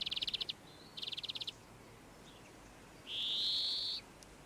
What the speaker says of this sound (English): These are greenfinches, common in town and country gardens. Their song is a loud, rapid trill.